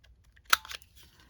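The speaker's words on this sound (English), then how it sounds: "my corner rounder does not want to cut antique paper" A single crisp corner rounder punch cutting paper, a sharp snap followed by a softer click, in an otherwise quiet room.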